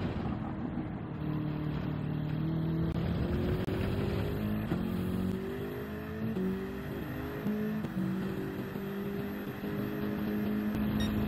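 Race car engine on the Red Bull Ring in Gran Turismo 7, a steady mid-pitched drone that climbs and drops through repeated gear changes across the lap, with no voices over it.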